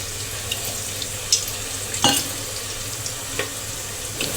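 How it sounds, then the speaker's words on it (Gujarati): Oil heating in a pan before popcorn is added, a steady low sizzle and faint crackle with a few brief clicks and scrapes, close by and moderately quiet. "આપણે તપેલીમાં તેલ ગરમ મૂકીશું ધાણી ફોડવા માટે"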